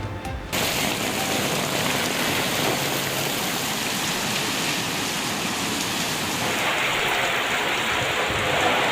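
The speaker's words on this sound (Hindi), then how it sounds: "पंजाब में तूफानी बारिशों ने सब कुछ डुबो दिया।" Heavy rain pours down during a storm in Punjab, a dense, loud, steady hiss of downpour that holds throughout after a brief quieter opening, with no voices.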